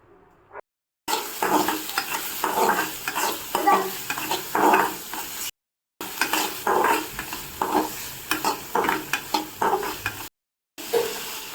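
Maggi noodles cook in a pan with onion, tomato and water, a spoon scraping and stirring in repeated strokes over a low sizzle, loud and close, with a few brief silent gaps.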